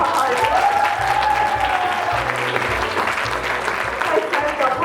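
Audience at a graduates' farewell matinee breaks into loud, sustained applause for a performing couple, steady clapping with crowd noise and some voices mixed in throughout.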